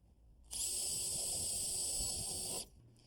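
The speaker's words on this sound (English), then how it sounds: "I'm going to take and drill 2 holes right here in the back for a pop rivet." A drill bores two pilot holes through the back of a white aluminum gutter at a box miter, ready for pop rivets; one steady high-pitched whine runs about two seconds, close and loud, then stops.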